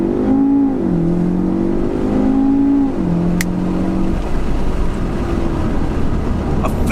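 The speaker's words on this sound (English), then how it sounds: "Right foot on the accelerator to the floor." A Volkswagen Golf R doing a hard launch-control start with the gearbox in sports mode, engine droning loud and close as it climbs through rising pitch sweeps with gear changes, then settles into a steady roar.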